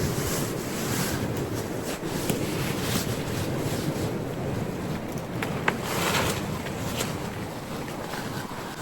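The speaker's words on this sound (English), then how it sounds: "But it sure is windy." Extreme winter wind buffets and roars steadily against the microphone at a tarp campsite in Iowa's Loess Hills, with gusty rumbling and faint crackles throughout.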